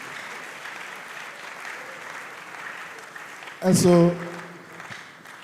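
Steady applause from an audience at a school lecture series panel discussion fills the background, while someone speaks briefly over a microphone and a loud close thump cuts in partway through.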